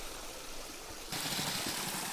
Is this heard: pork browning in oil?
no